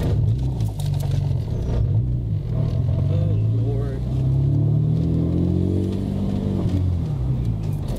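A BMW Z4 M Coupe accelerates with a steady low engine drone that rises in pitch as it pulls away, heard from inside the car with people talking over it throughout.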